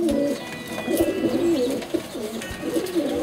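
Pigeons coo in rounded, repeating phrases close by, one call rolling into the next, with faint background noise and no one speaking.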